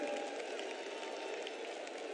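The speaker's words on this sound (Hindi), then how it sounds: "एक बार जोरदार ताली बजाकर आदरणीय प्रधानमंत्री जी का वंदन करें, अभिनंदन करें" A large crowd at a Jodhpur public rally claps for Prime Minister Narendra Modi, a dense, steady wash of applause heard from some distance.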